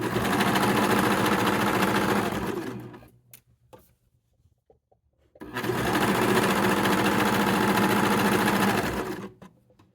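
A sewing machine runs in two long, steady bursts stitching a hoodie's side and sleeve seams, with a short quiet gap of faint clicks between them; close and loud, with no talking.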